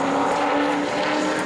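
A super late model race car runs at part throttle during qualifying at New Smyrna, its engine a steady, moderately loud drone with a sustained hum that neither rises nor falls.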